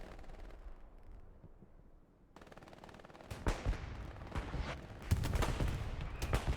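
Artillery fire and bursts of gunfire in a competitive multiplayer war game match on the Hurtgen map, a quiet rumbling start, then loud booming blasts and rattling shots piling up densely toward the end.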